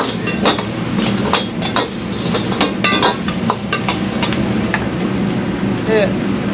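Crushed fried garlic hits a hot wok in a Chinese kitchen, sizzling steadily beneath repeated metallic scrapes and clanks of a ladle, loud and close.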